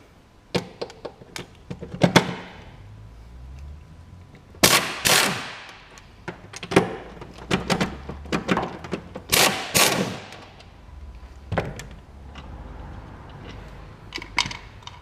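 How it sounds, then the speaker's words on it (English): Pneumatic rattle gun undoing the strut top nuts on a Ford Fairmont, heard as several separate bursts of sharp impact hammering spread across the clip, some short and some longer, with clanks and handling noises between them. "Rattle gun again."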